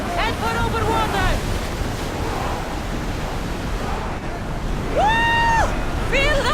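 Wind and ocean surf around a sailing warship in Assassin's Creed Odyssey, a constant loud rushing wash with short shouted voices and cries rising over it.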